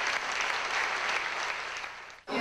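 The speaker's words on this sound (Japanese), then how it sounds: "ステージはスタンディングオベーションで幕を閉じた" Standing ovation after a violin concert: dense, sustained applause from a large audience fills the hall without a break, then cuts off abruptly near the end.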